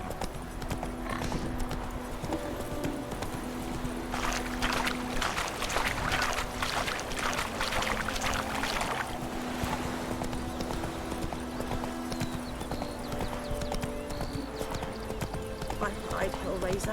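Hooves of Roach, a horse in The Witcher 3: Wild Hunt, clip-clop in a steady, continuous gallop rhythm throughout, loud and close, with a brief whinny, game music and character dialogue running underneath.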